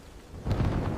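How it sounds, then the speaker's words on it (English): Loud thunder rumbles during a storm with heavy rain and strong wind, a low rolling boom swelling up about halfway through and holding steady to the end. "Hear the loud thunder rumbling outside tonight."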